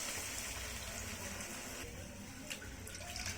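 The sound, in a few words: water poured into pan of salna masala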